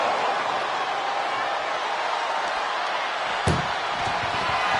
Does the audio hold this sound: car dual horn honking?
no